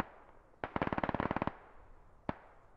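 Automatic rifle fire in the military shooter game Squad: one sharp shot, then a fast rattling burst of about a dozen rounds, and a final lone crack after a pause.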